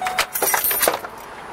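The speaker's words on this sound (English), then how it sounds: "take these keys out" A bunch of keys jangles and clinks as it is pulled out of a car's ignition from the driver's seat, giving a few quick, bright metallic rattles close by.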